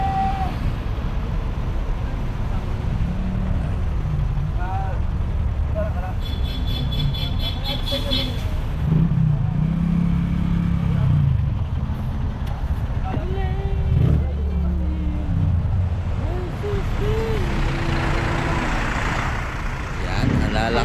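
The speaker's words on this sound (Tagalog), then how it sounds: "traffic." Busy street traffic in Intramuros, with large buses and trucks rumbling past close by, engines droning steadily and occasional higher whines and brake hisses, while people talk over the continuous roar throughout.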